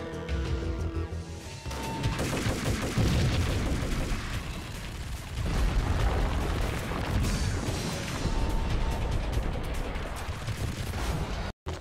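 Max Payne gunfire: sustained heavy shooting fills nearly twelve seconds, with rapid overlapping shots and booming impacts at a loud, steady level. The barrage cuts off abruptly at the end.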